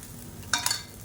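Cooked basmati rice, boiled with salt, is stirred into a sautéed mixture in a pan, giving two quick scraping, rustling strokes over a quiet background.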